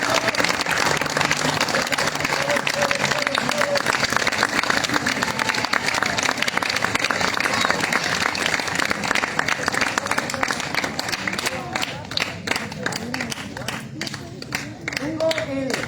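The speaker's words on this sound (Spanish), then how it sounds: "vamos a darle un aplauso de bienvenida a las niñas" Explorers at a church campfire gathering clap to welcome a group of girls, a busy stretch of crowd applause with voices mixed in, fading into sparser claps and chatter near the end.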